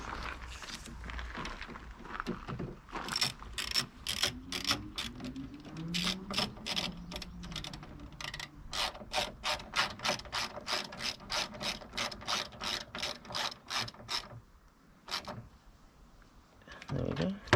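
A hand ratchet tightens a fastener on a BMW E92 door panel, giving long runs of rapid, evenly spaced clicks with brief pauses between strokes, close and clear, with speech heard at times.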